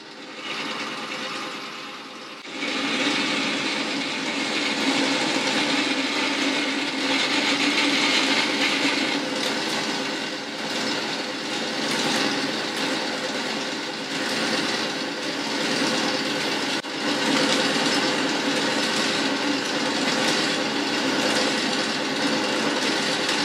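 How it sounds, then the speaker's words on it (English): A drill runs continuously for a long stretch, enlarging a hole about half an inch deep in metal for a camera adaptor, grinding steadily with a harsh, broadband whir after a brief quiet start. "so I can just open that up with that drill"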